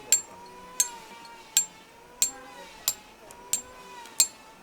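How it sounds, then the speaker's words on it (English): Workers chip and shape stone to build huts in Nepal's Langtang Valley: sharp metallic clinks strike in a steady rhythm about every 0.7 seconds, moderately distant, over a quiet outdoor background with a faint sustained tone. "there's guys shaping rocks to build these huts"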